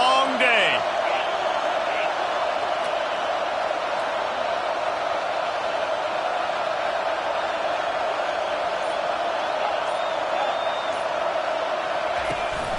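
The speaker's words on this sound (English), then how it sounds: "This crowd, full throat, splitting the eardrums and letting them know it's going to be a long day." A stadium crowd at a Utah vs Florida football game roars in a steady, dense wall of noise throughout, loud and sustained without breaks.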